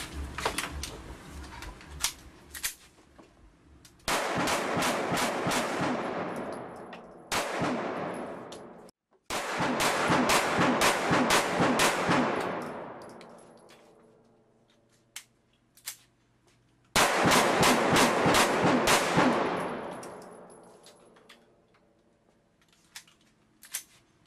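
A Beretta Nano pocket pistol firing Black Hills hollow point rounds outdoors: loud rapid strings of shots fired in quick succession, each volley ringing out and fading, separated by pauses with a few stray single shots.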